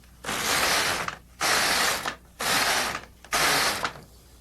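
An LK150 knitting machine carriage knits yarn across the needle bed in four loud, rasping mechanical sweeps of roughly a second each, separated by short pauses, heard up close with no talking.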